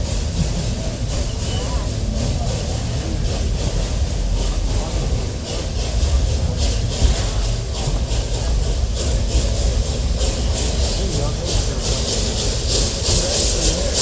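A small ride-on train with a steam engine runs steadily, its hissing, rumbling motion continuous and close throughout.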